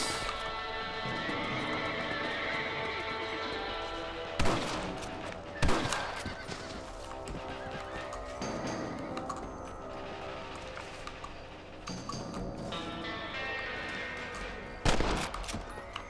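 Gunshots in Red Dead Redemption, a handful of sharp, separate cracks spaced several seconds apart over a steady game soundscape with horse noises, fairly close and loud against the background.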